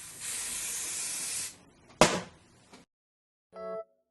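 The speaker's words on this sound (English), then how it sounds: "I'm gonna just spray it right along the hairline" Hairspray hisses in a continuous burst of about a second and a half along the hairline of a lace front wig, then a short sharp spurt follows, close to the microphone.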